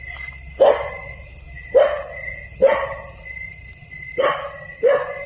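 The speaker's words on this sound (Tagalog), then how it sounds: "May aso ah." A dog barks five times at uneven intervals, fairly close, over a steady high insect-like drone of night crickets.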